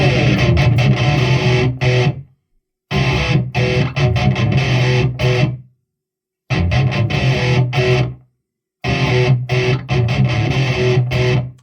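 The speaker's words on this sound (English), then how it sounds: "we'll try a metal riff just real quick on the low end" Heavily distorted electric guitar, a Donner HUSH X Pro travel guitar, chugging a fast, loud metal riff on the low strings in short bursts separated by brief silences.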